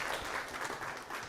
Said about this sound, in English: Please give a big hand clap